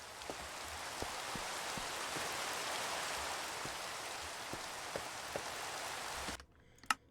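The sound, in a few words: rain in the video game Minecraft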